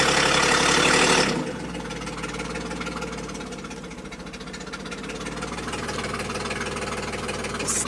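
A 1990 Buick Regal V6 engine with low power idles with a lumpy, uneven beat after a burst of loud noise at the start, the rough rhythmic pulsing continuing close by.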